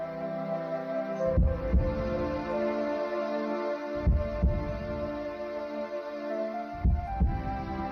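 A human heartbeat at rest sounds as paired, low, muffled thumps recurring every few seconds over a steady hum.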